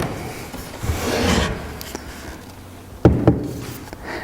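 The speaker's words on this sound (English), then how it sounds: "take it apart and sand a little chamfer on this leg" Hand sanding shapes a small chamfer on a wooden dining table leg, with rasping strokes of abrasive on wood followed by a few sharp knocks and taps against the timber.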